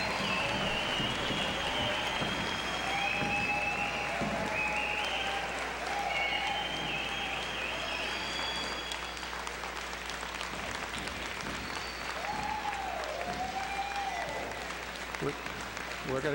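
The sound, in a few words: applause for graduates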